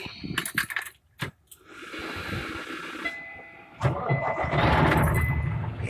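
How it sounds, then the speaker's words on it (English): A truck engine turns over and catches, with a rising mechanical rumble and clatter that settles into a steady idle, heard close up after some handling noises. "So now we're gonna turn this engine on."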